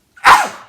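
One quick human sneeze, close and abrupt, a short breathy burst that fades out fast with no talking around it.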